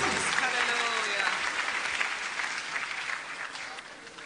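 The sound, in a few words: church congregation applauding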